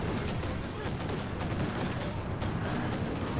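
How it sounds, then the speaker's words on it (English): Soviet Katyusha rocket launcher firing in the Company of Heroes 2 battlefield, a dense, continuous roar of rocket and gunfire noise under light commentary, with no clear separate launches standing out. "Where is that Katyusha firing?"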